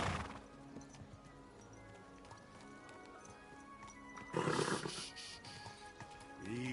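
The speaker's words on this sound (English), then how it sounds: "Is this my horse? It is my" A horse in the video game Kingdom Come Deliverance 2, with steady clip-clopping hooves and animal snorts close by, then a louder rush of breath and movement midway through.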